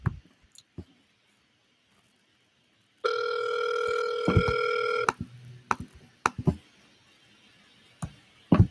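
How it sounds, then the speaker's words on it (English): A telephone on a live stream gives a steady electronic ring tone for about two seconds, fairly loud, followed by scattered clicks and handling noises as the call comes in. "we got a phone call"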